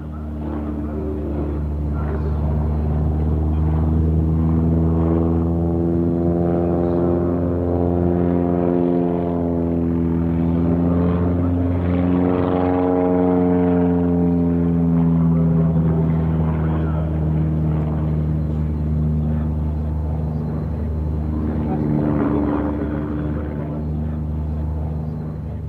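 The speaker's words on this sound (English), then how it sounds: "He's showing the amazing manoeuvrability of this turboprop-powered aircraft." A Tucano turboprop trainer flies a solo airshow display, its engine a loud, steady drone with propeller tone rising and falling in pitch as it manoeuvres, sustained throughout.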